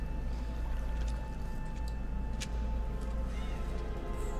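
Water trickles and pours inside a dark cave in the video game The Vanishing of Ethan Carter, a steady flowing wash over a low rumble, with a few faint clicks and drips, no talking.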